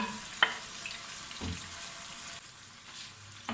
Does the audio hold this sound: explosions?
no